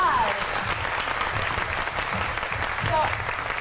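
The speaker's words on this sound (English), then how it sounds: "they deserve another round of applause" Loud, sustained audience applause at a live event, continuous clapping filling the room, with a few whoops and cheers rising above it near the start and toward the end.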